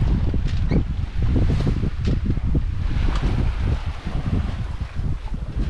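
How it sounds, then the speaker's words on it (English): A sailboat under staysail, headsail, main and mizzen moves at about five knots with the engine off, giving gusty wind buffeting and rushing water, loud and close to the microphone, with no voices. "Nothing better than when the engine's off and all the sails are up."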